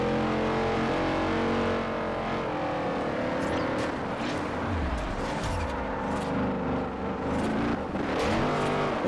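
A car engine revving and accelerating in the racing video game Forza Horizon, loud and continuous with rising gear pulls and a hint of tire squeal, no talk over it.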